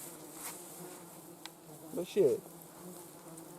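Horseflies and mosquitoes buzzing outdoors on a hike near a hut during haymaking, a faint whine under quiet ambience, then a closer, louder buzzing pass for a moment, with a brief word spoken.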